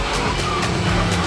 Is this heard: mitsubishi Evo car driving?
yes